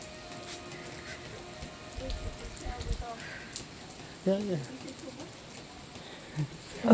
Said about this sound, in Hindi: थोड़ी सी भी बारिश की बूंदें लग रही है